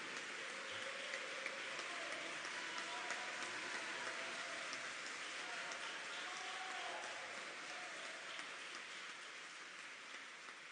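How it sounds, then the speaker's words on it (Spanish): Sustained applause from a big crowd at a physician's lecture forms a thick, even wash of clapping, moderately quiet and unbroken, easing slightly toward the end. "Aquí hay una verdadera guerra de aplausos."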